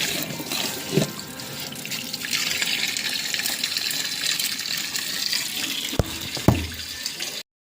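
Tap water runs steadily into a kitchen sink while meat is washed by hand, with a few brief clunks and knocks near the end.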